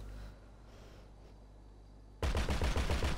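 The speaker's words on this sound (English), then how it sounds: "let's get testing this fucking gun." Gunfire from a gun being tested in GTA 5, starting abruptly after a quiet stretch as a loud, rapid burst of repeated shots that continues to the end.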